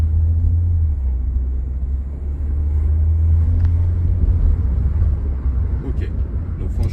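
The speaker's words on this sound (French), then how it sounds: "Attention, on écoute le moteur." A Renault Captur Intens 1.2 TCe 118 hp petrol engine pulls under light acceleration on the road, a steady low rumble with road noise, loud and continuous from inside the car.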